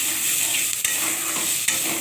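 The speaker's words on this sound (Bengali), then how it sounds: "এটাকে ভালো করে ভেজে নিতে হবে।" Chopped garlic and green chillies frying in a pan, giving a loud, dense, continuous sizzle with two brief knocks of a utensil, no speech.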